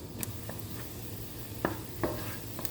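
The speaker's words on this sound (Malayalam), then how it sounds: "മുന്തിരി നമുക്ക് നന്നായിട്ടൊന്ന് വറുത്തെടുക്കാം." Raisins frying in ghee in a pan for elanji, a soft, quiet sizzle broken by a few faint clicks and stirring scrapes.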